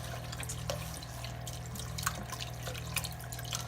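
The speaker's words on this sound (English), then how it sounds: "I was going to pour in a little chicken stock" Chicken stock pouring into a stew pot, a faint steady liquid trickle with scattered drips and splashes over a low background hum, quiet and continuous without talk.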